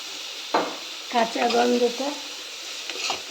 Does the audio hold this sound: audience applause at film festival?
no